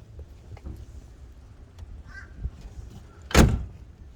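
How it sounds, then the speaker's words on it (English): A 1953 Chevy Bel Air door shuts with a single solid thunk late in the moment, preceded by faint outdoor ambience and small handling noises. "Door closes phenomenally."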